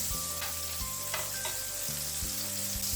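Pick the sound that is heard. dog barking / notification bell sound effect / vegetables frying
vegetables frying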